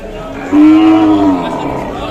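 A Sahiwal bull gives a single loud, drawn-out moo at a busy livestock market, with murmuring crowd noise behind it.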